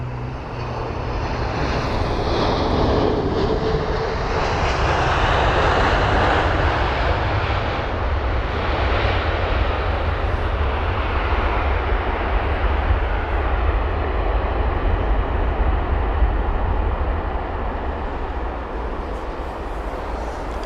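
Delta Airbus A330-300 airliner landing at Heathrow, a loud sustained jet engine roar with broad rumble that holds steady for about twenty seconds and eases slightly at the end, no voices.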